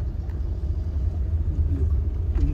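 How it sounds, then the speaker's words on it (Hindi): Heavy road traffic with cars passing, a steady low engine and tyre rumble filling the scene continuously and loudly, no voices. "तो आप देख सकते हो ट्रैफिक बहुत ज्यादा ट्रैफिक है।"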